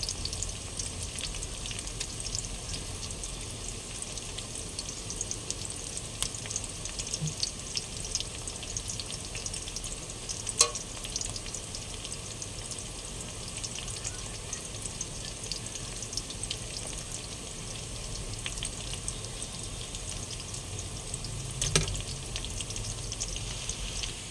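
Onions fry in a pan for bitter gourd korma with a steady, close, even sizzle that runs throughout, with a few faint clicks and no talk.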